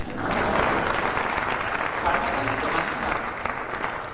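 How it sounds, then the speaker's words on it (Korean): Lecture audience applauding in honour of former president Kim Young-sam, a steady, dense wash of many hands clapping at an even level from start to finish. "우리 김영삼 전 대통령에서 박수 한번 쳐주십시오."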